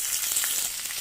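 Mustard seeds and curry leaves sizzle hard in hot ghee in a pan while tempering for rasam, a loud, close, continuous crackling hiss with no talk.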